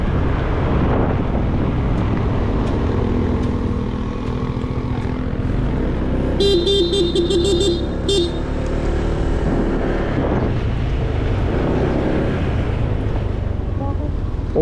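Heavy wind buffeting a microphone while riding a motorcycle on a road tour from Cavite to Bicol, a loud steady roar with engine hum underneath and a brief electronic beeping midway.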